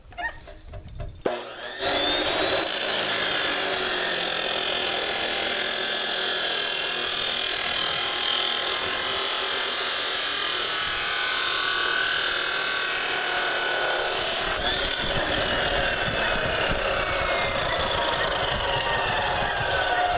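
A metal-cutting chop saw slices through steel tubing outdoors, a loud, continuous grinding whine that starts after a couple of brief knocks and holds steady for the rest of the cut, with no talk.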